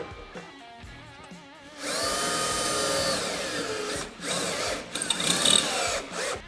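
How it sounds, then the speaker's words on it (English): A power drill whirs loudly in two bursts, revving and biting into a Polaris RZR while drilling holes for inner fender guards, with quieter mechanical clicks before and between. "go ahead and start doing some drilling"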